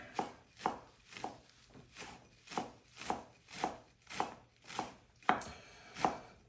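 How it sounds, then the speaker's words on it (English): A knife chops through a bunch of parsley, stems included, on a cutting board, about a dozen crisp, evenly spaced chops in a steady rhythm, close and clear with no voices. "And with the parsley, just chop it all up."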